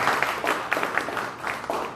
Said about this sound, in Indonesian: Tepuk tangan dulu Bapak Ibu sekalian.